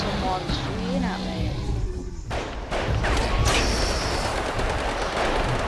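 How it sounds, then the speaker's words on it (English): Gunfire in the video game Primal Carnage, a dense, loud barrage of shots and crashes under constant game noise, with a brief lull midway before the firing resumes. "someone's shooting at me."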